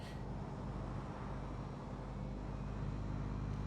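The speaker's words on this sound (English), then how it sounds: "The engines are functional. There's a vertical thrust." Spaceship engines producing vertical thrust in The Invincible video game, a loud, continuous low rumbling roar with a steady droning hum throughout.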